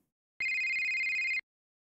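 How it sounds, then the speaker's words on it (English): A telephone rings in a Roblox psychological horror game, one steady electronic ring burst of about a second, loud and clear with no talk over it. "The phone's ringing."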